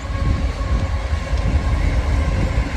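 A freight train hauling coal rolls past nearby, making a loud, continuous heavy rumble with a low grinding drone and no pauses or speech.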